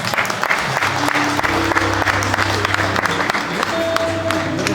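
Sustained applause from an audience, a dense patter of many hands clapping continuously with a faint murmur of the crowd underneath.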